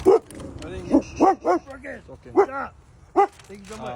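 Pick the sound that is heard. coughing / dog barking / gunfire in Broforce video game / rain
dog barking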